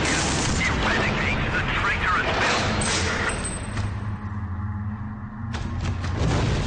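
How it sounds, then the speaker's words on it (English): Constant explosions and battle noise in an early build of the Space Marine video game, a dense, loud roar of booms and cracks with a brief quieter dip, under someone talking. "very unstable environment, constant explosions, screen shakes"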